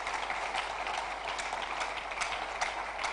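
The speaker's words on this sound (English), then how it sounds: "Let's put our hands together for them." An audience at a live roadshow event applauds, a steady, even wash of clapping held at a moderate distance for a few seconds.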